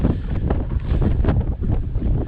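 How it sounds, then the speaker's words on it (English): Heavy wind buffets the microphone in a steady, loud roar with gusty surges and no voices. "it's just too windy"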